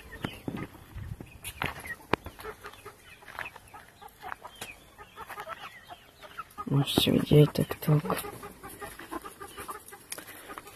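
Chickens clucking softly around a farm coop, with a louder burst of fowl calls near the middle, while someone talks intermittently over them.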